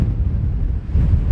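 Strong wind buffets the microphone on the cliff tops at Bennan Head, a loud, low, continuous rumble with gusting swells and no voices.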